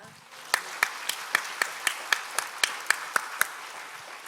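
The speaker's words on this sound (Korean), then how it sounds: "하나님 아버지께 영광의 박수 올립니다." Church congregation at a Sunday worship service clapping in a steady, evenly spaced rhythm, about a dozen crisp unison claps in a row, moderately loud against a quiet room.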